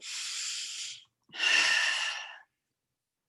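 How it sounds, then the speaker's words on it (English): A slow, deep breath drawn in and then let out, two broad airy rushes of about a second each with a short pause between, close and fairly loud with no talking. "Let's take a breath"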